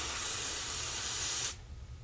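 Penetrating oil on a rusty bolt gives a loud, steady hiss close by, which cuts off abruptly after about a second and a half.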